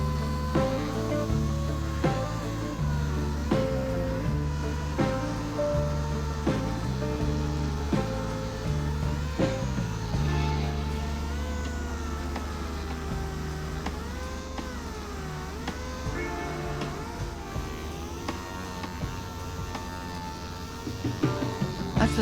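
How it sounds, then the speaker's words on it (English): A dual action sander working over a chrome bumper from a Triumph TR6 under restoration, a continuous loud whirring drone with wavering pitch and scraping surface contact throughout. "it's better to do those with a DA"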